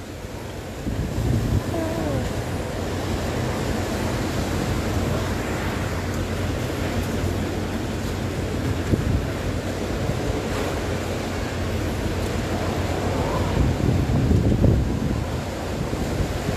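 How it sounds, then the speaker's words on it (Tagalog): Strong typhoon wind from Super Typhoon Goni near Naga City, a steady roaring rush with buffeting gusts on the microphone, continuous and loud throughout, with faint surf-like rumble beneath. "ang lakas ng hangin"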